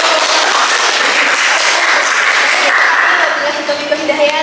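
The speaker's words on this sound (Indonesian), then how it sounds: "Oke, berikan tepuk tangan untuk" Loud applause from a crowd fills the room, dense clapping that fades slightly toward the end.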